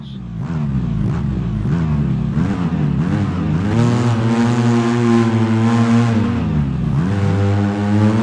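An off-road vehicle in the video game Overpass pulls away from the start. Its engine revs loud and close with rising, falling pitch sweeps through gear changes and throttle, holding steady for several seconds.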